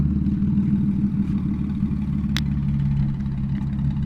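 A Lexus IS300 running with a straight-pipe muffler and resonator delete, giving a loud, steady low exhaust drone at idle close by, with one brief sharp click partway through and no talk.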